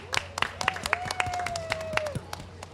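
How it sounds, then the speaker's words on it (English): Brief applause from a conference audience for a panel of agricultural speakers at a climate event, scattered claps heard close and moderately loud under a sustained tone. "Give them all a round of applause."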